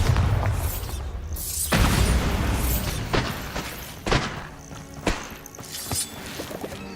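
Bombarda blasting spell explosions in Hogwarts Legacy: a heavy booming rumble, then several sharp separate thuds and pops, moderately loud and alone with no talk.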